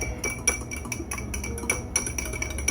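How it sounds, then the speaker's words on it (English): A whisk clinks rapidly against a glass bowl while salt and pepper are mixed into a maple syrup mixture, a steady run of light, close metallic taps. "Now let's whisk that up"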